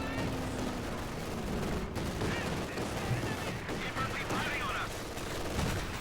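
MG42 machine gun fire in a World War II strategy video game, dense bursts of distant gunfire layered with battle noise, heard under a commentator's voice.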